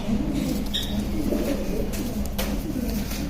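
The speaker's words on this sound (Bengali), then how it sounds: "এগুলা আমার বিশ্বস্ত লাইনের কবুতর" Racing pigeons coo in a loft, a soft, steady murmur against a constant, noisy background with no clear gaps.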